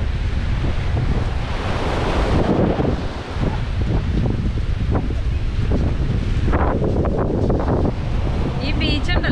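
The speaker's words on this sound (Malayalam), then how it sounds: "ചെറിയൊരു ബീച്ചാണ്" Waves wash constantly onto a small beach at Montana de Oro, close and loud, with strong gusting wind buffeting the microphone throughout.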